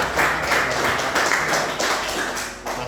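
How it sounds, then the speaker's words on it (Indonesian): Steady applause from a classroom group during an Indonesian teacher-training lesson, dense overlapping claps filling the room at an even level for a few seconds, with no talk. "Oke, beri tepuk tangan."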